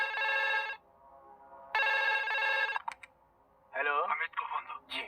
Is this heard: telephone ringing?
yes